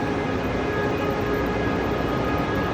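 A train at Madinah station gives a loud, steady, close mechanical hum and rumble with faint tonal whine, continuous and unchanging throughout, with no speech.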